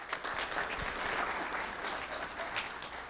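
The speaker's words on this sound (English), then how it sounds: "Round of applause for Calvin Gurrier." An audience applauding a fifth-grade student named Calvin Gurrier at a school recognition event, steady moderate clapping from a room of people, somewhat distant and continuing throughout without speech.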